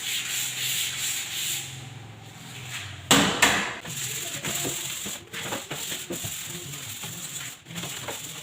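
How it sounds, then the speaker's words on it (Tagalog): Gentle hand sanding with 220-grit sandpaper on a painted wooden cabinet, a steady close scratchy rubbing with a sharper burst of strokes partway through, and no voices. "Number 220 pero ano lang, banayad lang para di matanggal yung pintura."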